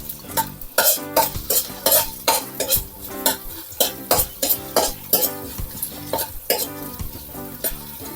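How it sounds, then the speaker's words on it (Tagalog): Ginger sizzles as it is sautéed in a pan, with a spatula scraping and stirring in a steady rhythm of loud, close strokes over constant frying. "Papupulayin ko lang muna ng konti itong ating luya."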